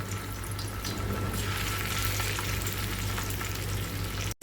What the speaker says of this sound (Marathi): सगळ्यात आधी मी वाम तळायला घेते